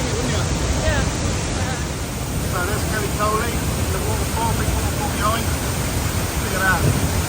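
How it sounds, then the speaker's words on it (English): Tegenungan waterfall in Bali roars as a big waterfall with a dense, continuous rush of water, while faint voices and chatter sit under the steady noise. "So there's Kelly Coley, the waterfall, big waterfall behind."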